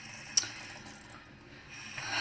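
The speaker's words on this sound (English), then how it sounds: "I'm gonna wash my dishes while I do that. So if you hear the sound of running water," Running tap water while dishes are washed at a sink, a soft, close hiss of flowing water with a small clink early on, dipping quieter midway before swelling again, with no voices.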